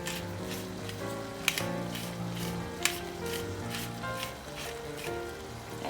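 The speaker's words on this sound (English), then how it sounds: "I stir that in" Spices stirred into a thickening risotto sizzling in a pan, a steady close frying hiss with soft scraping of the spoon and two sharp clinks against the pan.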